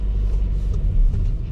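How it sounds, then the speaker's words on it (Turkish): Traffic drones on a street in Winterthur, a steady low rumble of passing cars close by, with no voices. "Arabalar geliyor."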